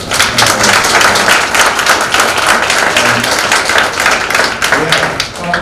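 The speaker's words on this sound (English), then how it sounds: "I'm going to give a quick round of applause for our" An audience at a business talk on AI ethics gives a round of applause, with dense, close clapping sustained for about five seconds and no talking over it.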